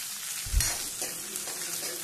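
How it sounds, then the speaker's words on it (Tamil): Dried red chillies and onion fry in hot oil, a steady close sizzle with a brief stirring clatter, for a brinjal kadayal side dish. "2 காஞ்ச மிளகாய், இதெல்லாம் பொரிஞ்சு வரட்டும்"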